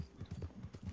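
Horse hooves clip-clop in a steady trotting rhythm in the Red Dead Redemption 2 video game, faint, close and even-paced with no talking over them.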